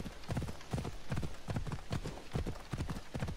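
Horse hooves clip-clopping at a steady trot in the video game Assassin's Creed Odyssey, a brisk regular rhythm of close, clear hoofbeats continuing throughout.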